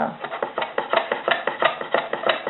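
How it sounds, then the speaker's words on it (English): Knife mincing fresh chives on a cutting board, a quick, steady series of about a dozen close, crisp chopping taps. "I will mince it."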